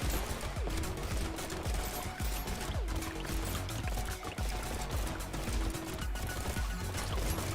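Dense, rapid automatic gunfire from the Brotato video game, a continuous rattling stream of shots with sharp impacts, loud and steady throughout with no speech.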